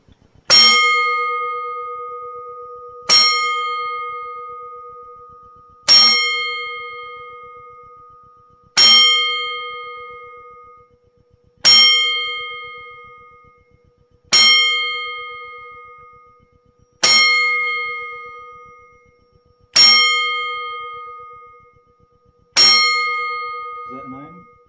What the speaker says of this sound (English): So we're gonna have a 10 count bell ring right now for you.